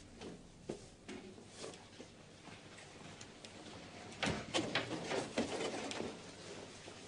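A pigeon or dove gives soft, low coos, faint and at a distance against a quiet indoor background, growing a little louder with a cluster of calls near the end.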